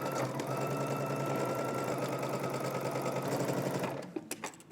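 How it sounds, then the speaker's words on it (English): A sewing machine stitching a Vogue V2000 wrap dress runs in a steady, fast continuous whir for about four seconds, then stops, followed by a few close clicks and taps. "You're gonna backstitch and break your thread, and then we're gonna move up to the next marking, backstitch again, and then continue sewing."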